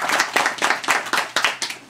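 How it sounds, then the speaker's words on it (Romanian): An audience at an academic gathering applauds a university history dean, loud close clapping with a clear rhythmic pulse of many hands striking roughly in unison, sustained without speech. "Să-l aplaudăm!"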